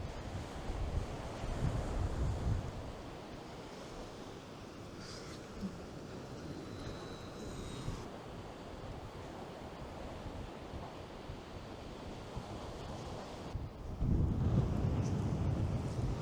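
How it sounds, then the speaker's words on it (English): Wind blows at the seaside during shore fishing, a steady rushing wash mixed with surf and microphone buffeting. Gusts swell louder near the start and again at the end, with no talking. "That wind has calmed down a little bit."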